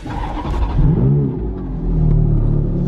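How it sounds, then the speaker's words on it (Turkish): A Ferrari engine cranks and catches, then settles into a steady, close rumbling idle with a slight rev. "Şu engine start'a bastığımızda, basılı tuttuğumuzda araba çalışıyormuş."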